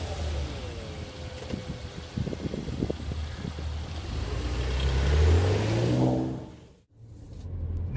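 A Porsche Macan with a 3.6 litre V6 twin-turbo engine is driven on the road, its engine note rising steadily through acceleration under road and wind noise, then dropping away briefly before building again.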